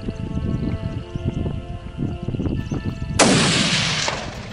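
A single hunting rifle shot aimed at a gemsbok in Africa cracks loud and sharp near the end, following a stretch of quiet rustling and low murmuring in the bush.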